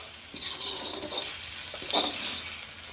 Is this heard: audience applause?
no